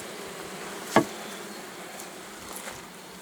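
Honey bees hum in an opened wooden beehive at a forest apiary. A faint, steady drone fills the background and is broken once by a single sharp nearby tap, with no voices.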